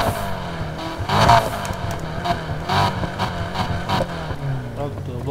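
A customized car's exhaust revs repeatedly in the racing video game Need for Speed Heat, several loud rising engine bursts with pops, with a voice talking over the engine sound.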